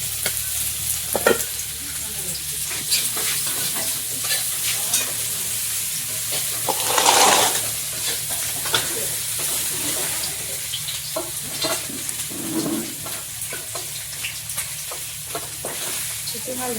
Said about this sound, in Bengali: এর মধ্যে পেঁয়াজ লঙ্কা কুচি দিয়ে ফাইনাল ভাজা হচ্ছে